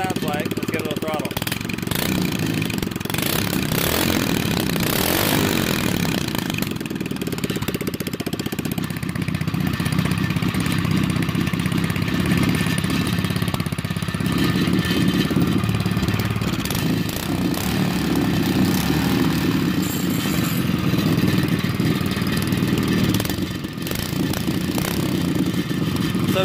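A mini bike engine with a homemade mini stack exhaust idles and is revved, giving a steady, loud, close mechanical drone that surges with the throttle and continues throughout, with no talking heard.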